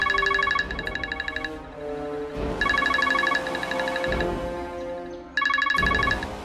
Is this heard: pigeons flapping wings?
no